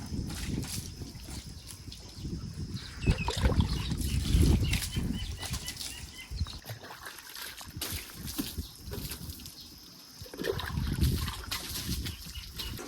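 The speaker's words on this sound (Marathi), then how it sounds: "हे आपली गाडी, आता पाणी मारत आहे." Water is poured and splashed over an Activa scooter during a home wash, with irregular gushing bursts and some louder splashes up close, running continuously with no talk.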